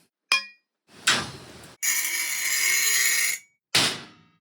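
Scrap metal pieces struck and dropped for an Iron Man sound design redesign: a quick metallic clink, two short clanging hits and one longer ringing, rattling metallic burst, each loud and close with silence between.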